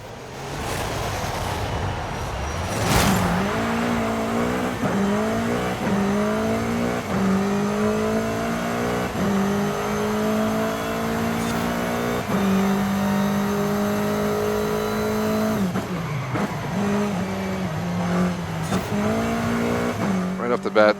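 A race car in Forza Horizon 5 revs hard through repeated gear shifts, its engine note climbing and dropping continuously while tires squeal, loud and up close for the whole stretch.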